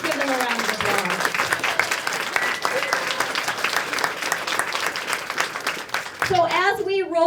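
Audience at a chamber of commerce ribbon cutting and open house bursts into sustained applause for chamber staff, dense clapping filling the room, with a speaker's voice heard over it near the start and again at the end.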